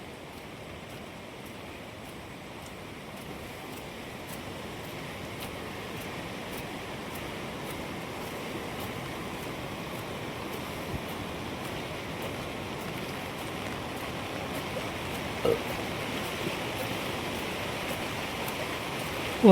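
Steady, even hiss of unseasonal rain over paddy fields falls continuously with no breaks, a dense wash of noise that holds at the same level throughout.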